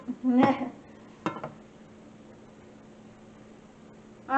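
A metal spatula tapped against a skillet while cooking caprese chicken: two sharp metallic clinks about a second apart, the first ringing a little longer, followed by quiet kitchen background noise.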